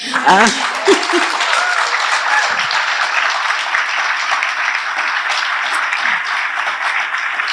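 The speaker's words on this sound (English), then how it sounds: "They didn't ask for your applause, but I'm sure you want to give it to them." Audience applause at a panel discussion on reproductive health care, a steady dense wash of clapping filling the room for several seconds, with faint voices underneath.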